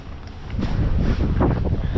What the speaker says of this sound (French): La pluie semble s'être arrêtée, mais pas le vent. Rafale à 55 km/h,